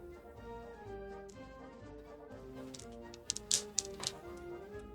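Dice clatter and rattle in a dice tray during a Bolt Action tabletop wargame, a quick burst of faint hard taps near the end of a quiet, musical background.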